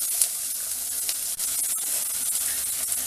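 Chopped onion, garlic and curry leaves sauté in hot oil in a pan, giving a soft continuous hiss with a few faint spatters and occasional clinks.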